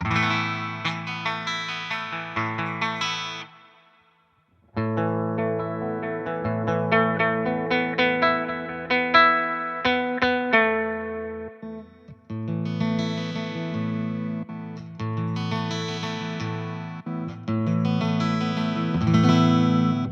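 Modeled guitar voices from a Fender VG Stratocaster ring out in strummed chords and picked notes, loud and close, with a brief pause near the start and shifting tones between phrases.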